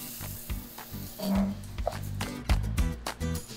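Rice sizzling in a hot pan with garlic and onion for a creamy mushroom risotto, a steady close fry broken by scraping stirs and clinks of the utensil against the pan.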